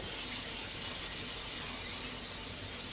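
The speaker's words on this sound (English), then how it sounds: "I'm going to use some olive oil spray in my bowl. And we're going to spray this bowl real good" A steady, close hiss of an olive oil cooking spray coating a bowl runs continuously for a few seconds.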